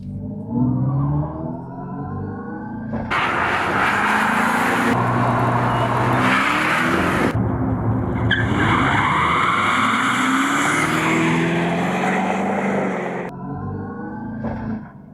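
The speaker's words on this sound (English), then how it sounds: "this noisemaker, it is the all-new 2024 Dodge Charger Daytona, an all-electric muscle car" A 2024 Dodge Charger Daytona all-electric muscle car roars loudly with a synthetic exhaust-like sound, rising and falling through revs with surging, tire-squealing bursts for a sustained stretch.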